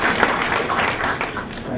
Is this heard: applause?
yes